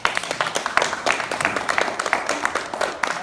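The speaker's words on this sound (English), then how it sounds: "I want to hear some applause behind that." An audience at a community ball honouring birthworkers applauds with dense, uneven clapping from many hands, fairly close and sustained for a few seconds, with faint voices mixed in.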